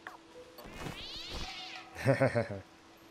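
A cat in the video game Stray gives a few short, close meows near the end, following a faint sweeping sound and brief talk.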